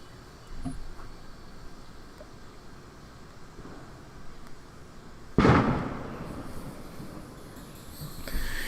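A single firework bursts with a sharp boom at a distance during a July 4 night in town, followed by a lingering crackle and faint rumble over quiet outdoor ambience.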